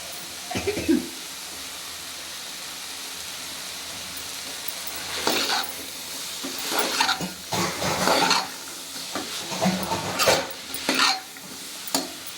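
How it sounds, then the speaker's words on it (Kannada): Beetroot and beans stir-fried in a pan crackle with a moderate sizzle, broken by repeated bursts of spatula scraping and stirring against the pan, with no talking. "ಬೀಟ್ರೋಟು ಮತ್ತು ಕಾಳು ಎಲ್ಲ ಚೆನ್ನಾಗಿ ಫ್ರೈ ಆಗಲಿ, ಮಿಕ್ಸ್ ಆಗಲಿ"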